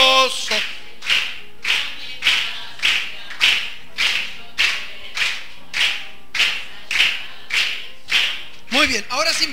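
Congregation clapping in steady rhythm along to a Spanish-language hymn at a church service, about fourteen loud, even claps over sung voices, ending with a brief scatter of voices.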